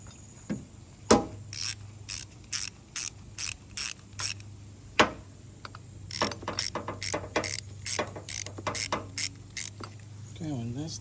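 A ratchet clicks in quick repeated strokes while tightening a car battery hold-down bracket, with two runs of rapid close clicking separated by a pause, a couple of clunks, and a low hum underneath.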